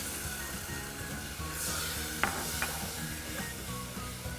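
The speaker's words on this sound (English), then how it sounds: "And you just want to mix this together until it starts boiling." A spoon stirs brown butter, sugar, milk and cocoa powder in a hot pot for no-bake cookies, giving a soft continuous sizzle and scraping with a few light clinks, fairly quiet and with no talk.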